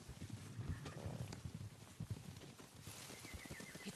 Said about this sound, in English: Horses, they're coming for us.